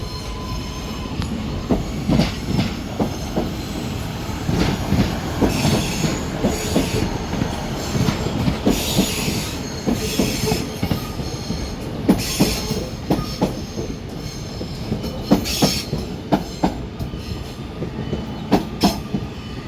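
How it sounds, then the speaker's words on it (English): Trains at Manchester Piccadilly station: a class 156 diesel unit departs while a class 331 electric unit arrives, with loud rumbling, rail clatter and wheel squeal that rise and fall continuously, with no talk. "So we've got 156412 just departing there, and 331021 arriving in there, with another 331 on the front."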